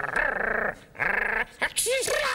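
A man imitating a dog sneezing, voicing a few short snorting, growly bursts one after another, close and fairly loud, with yelping squeaks at the end.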